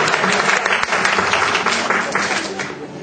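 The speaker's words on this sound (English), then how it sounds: "Sorry, King, usually they applaud that" Audience applause at a live comedic stage performance, a dense burst of clapping filling the space for a few seconds, loud and steady.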